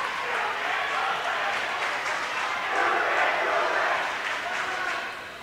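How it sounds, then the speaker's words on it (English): Crowd and student sections from Randolph and Brodhead cheer and applaud at a high school volleyball sectional final, a loud sustained roar with clapping that swells midway and fades at the end. "great crowd, great student section from both sides, Randolph and Brodhead"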